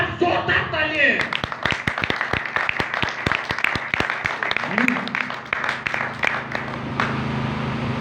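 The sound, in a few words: loud applause from congregation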